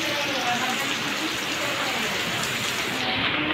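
Heavy rain pours down steadily over a village at night, a dense, continuous hiss of drops on surfaces that holds an even loudness from start to finish, with no talking.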